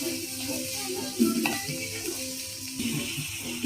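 Garlic and onion sizzling in a frying pan for tilapia escabeche, a steady soft crackle with occasional clinks and stirring scrapes, heard close and alone.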